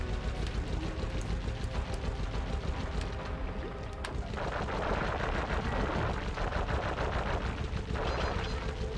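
Rapid gunfire from the game Sly Cooper and the Thievius Raccoonus rattles in dense, continuous bursts, loud and close, over a constant noisy backdrop.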